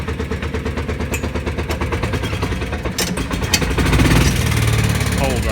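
A Kawasaki Mule 2510 engine idles cold just after its carburetor is reinstalled, a loud, close, fast rhythmic chugging that steadies and thickens into a fuller rumble partway through, with a voice speaking over it.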